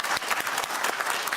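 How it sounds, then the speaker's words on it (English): Debate audience at a televised election debate breaking into applause, a dense steady wash of many hands clapping at close range for a brief burst, with no voices standing out. "why are these people applauding?"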